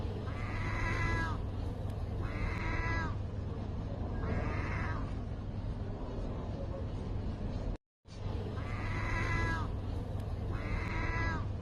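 Birds in Istanbul mimic a cat's meow, drawn-out wavering calls repeating roughly every one to two seconds against steady background noise, with a brief dropout midway.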